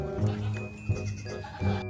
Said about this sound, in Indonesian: Yang ini ada kambing atau domba